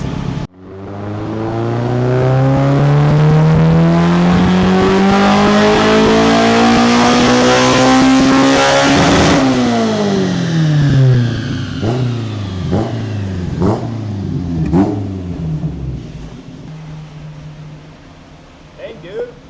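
A Toyota JZX100 engine revs hard on a dyno, climbing steadily in pitch to a loud peak, then dropping off with a series of crackling, burbling blips as it winds down; voices are audible in the background.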